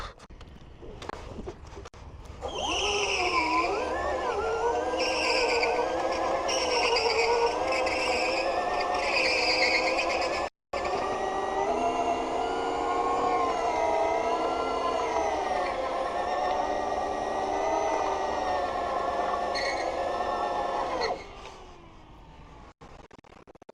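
An Ather electric scooter spinning its worn-out rear tyre in a burnout, a loud continuous squealing screech with wavering pitch that holds for about twenty seconds, briefly cutting out partway through, then stops abruptly.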